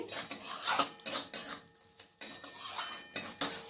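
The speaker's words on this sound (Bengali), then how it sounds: "আবার মশলাটাকে ভালো করে মিক্স করে নিচ্ছি।" Spice masala with salt being mixed in a pan for a rui fish curry: quick metallic scrapes and clinks of a utensil against the pan, close and rhythmic, with brief pauses between strokes.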